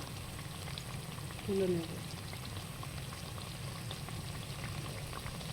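Soybean kababs fry in a pan with a soft, steady sizzle that holds throughout, while a voice speaks briefly over it.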